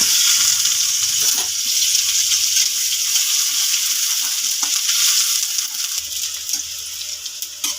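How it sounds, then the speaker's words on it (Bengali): Chopped onions sizzling in hot oil in a wok, a steady bright frying crackle with occasional stirring scrapes, close and continuous throughout without any talking. "কড়াই তেল দিয়েছি, তেল গরম হয়ে গেছে। আমি এটার মধ্যে পেঁয়াজ কুচি দিয়ে দেবো।"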